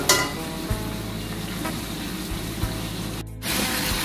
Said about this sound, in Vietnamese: chiên mà cho chim cúc mình nó vàng nó săn lại nhé